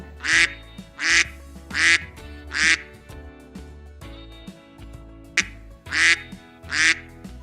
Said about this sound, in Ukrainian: кря-кря-кря пливе по річці